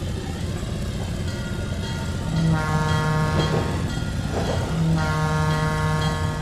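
A freight train rumbling along the track in the video game Trainz 2022 on the C&O Hinton line, a loud continuous roll with sustained horn-like tones sounding twice, close and alone.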